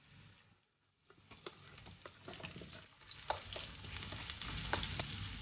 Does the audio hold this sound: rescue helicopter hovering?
no